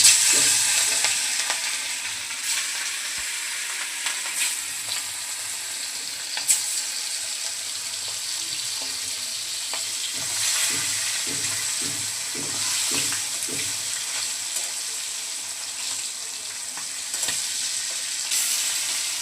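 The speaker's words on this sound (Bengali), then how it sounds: "মাছের এক পিঠ হয়ে গেছে, এখন উল্টে দেবো। ইলিশ মাছ হালকা করে ভাজতে হয়।" Hilsa fish pieces coated in turmeric, chili and salt frying in hot oil in a wok, a continuous bright sizzle with occasional scraping and stirring clicks, close up, no voices.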